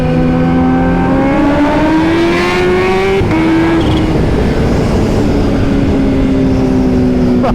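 A Kawasaki Ninja H2 motorcycle engine runs loud and close, holding a steady high-pitched drone that climbs slightly with the revs, then drops back and settles.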